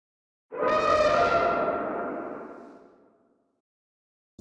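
A single loud dragon battle roar with added distortion and delay, a gritty, harmonically rich blast that rises fast and decays over a few seconds into a ringing echo tail.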